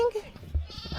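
Caged sheep bleating along a hiking route in England, one short bleat early on, fairly close, followed by low rustling and faint voice-like sounds.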